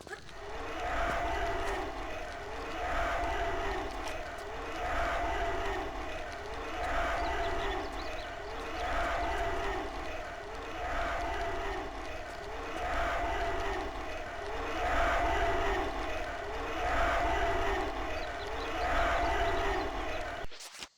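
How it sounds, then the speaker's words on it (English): Saw traps in the video game Tomb Raider 3 Remastered give off a steady, rhythmic whirring and scraping that pulses in regular cycles of even loudness under continuous game ambience. "my brain didn't remember those little freaking saw things, so that wasn't what I thought that noise was."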